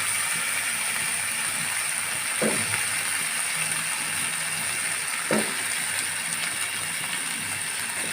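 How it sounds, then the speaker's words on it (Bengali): Vegetables frying in a pan with chili powder, a steady close sizzle and hiss running throughout, broken by two brief clinks of stirring. "এক এক করে আমি সব সবজিগুলা দিয়ে ভালোভাবে ভেজে নেব"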